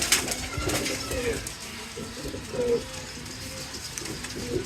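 Pigeons coo steadily in a loft, low rolling calls repeating in a loose rhythm over a constant background hum, with faint rustling and a hint of a voice in the distance.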